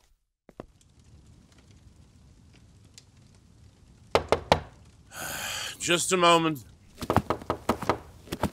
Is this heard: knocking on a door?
yes